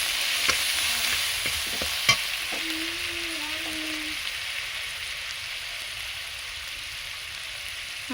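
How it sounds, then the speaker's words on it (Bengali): Turmeric and ground spices fry in hot oil in a village kitchen for a Bengali rui fish curry, a continuous close sizzle marked by a few sharp clinks and scrapes early on, with no talk. "আমি খুব ভালোভাবে ভেজে নিচ্ছি।"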